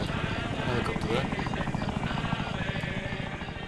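Helicopter in the Arma 3 Wasteland game, a steady rotor thrum with rhythmic chopping running throughout at moderate loudness, mixed under game noise and voices talking.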